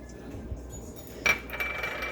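A utensil mixing tuna salad with black pepper in a bowl, giving soft scraping stirs and then a sharp metallic clink against the bowl near the end, close and quiet.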